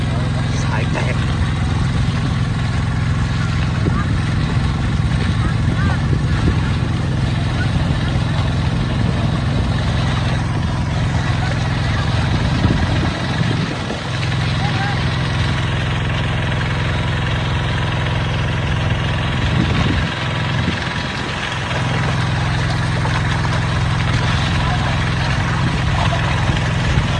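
A diesel-engine water pump runs with a steady, loud drone that holds throughout, feeding a 100-metre delivery hose; a couple of brief disturbances break the hum midway.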